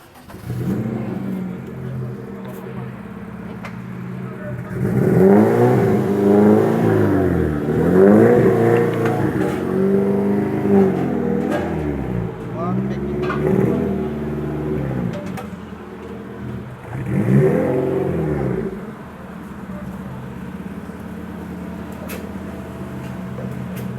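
A turbocharged, Honda-powered Smart Fortwo 451 starts and accelerates nearby, its engine rising through several loud revving pulls with gear changes before settling into an idle.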